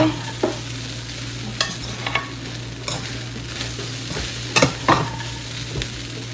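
A cooking mixture is stirred and mixed in a hot pan, with a loud steady sizzle, a low hum and periodic scraping strokes of a spoon against the pan.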